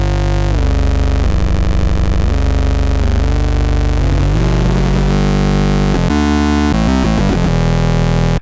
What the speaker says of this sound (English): you were to slightly detune them, it's going to be hitting the distortion differently